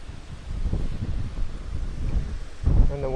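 Gusty wind buffets the microphone outdoors beside a fishing pool, a low rumbling roar that swells and eases, ending with a brief louder gust and a short tonal sound.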